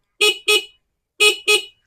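Four short, buzzy honks from the stock horn of a Motorstar Easy Ride 125 motorcycle sound in two quick pairs, loud and close, with silence between the pairs.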